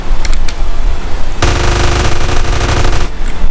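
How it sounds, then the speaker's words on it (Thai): Rapid automatic gunfire from a crouching character in GTA San Andreas, a loud dense burst of shots starting abruptly partway through and continuing steadily before cutting off, with sparse background game noise before it. "ลองนั่งยองแล้วยิงรัวๆดิ"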